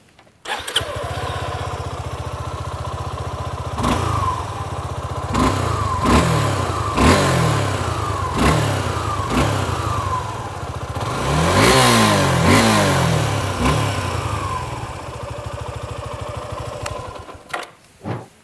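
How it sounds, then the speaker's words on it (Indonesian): A Suzuki V-Strom 250 SX with a single-cylinder 250cc engine cranks and fires, then settles into a thumping idle broken by several quick throttle blips. It shuts off near the end, all close-up and loud. "Ini adalah mesin 250 cc yang 1 silinder"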